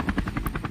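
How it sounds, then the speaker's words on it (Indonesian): Helicopter in a fishing video game, its rotor chopping in a steady rapid pulse of about ten beats, close and fairly loud with no talking. "Naik helikopter"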